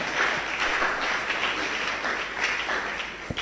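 Church congregation applauding together in a worship service, a steady dense wash of clapping that holds at even loudness throughout without a break, heard alone with no talk over it.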